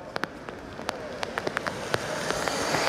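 Rain falls steadily at an outdoor political rally, a dense hiss with scattered sharp drop taps on a nearby surface, swelling slightly louder toward the end; nobody speaks.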